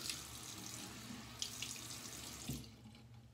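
A tap runs into a sink while more water is added to shaving lather, a soft steady trickle with a few faint clinks, quiet and close, with no voices.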